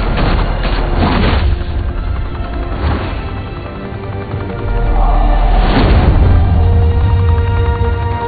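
Explosions and bursts of gunfire from Batman: The Telltale Series: a cluster of heavy booms up front, another blast near the middle, and a loud crash later, all over a steady low rumble.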